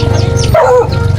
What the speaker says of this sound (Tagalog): Aso nila.